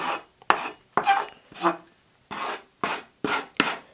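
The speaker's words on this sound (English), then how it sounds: "I might just grab my scraper and I might just move that flour out just a little bit more" A dough scraper rasps across a floured work surface in about eight short, rhythmic scraping strokes, close and clear, with no talking.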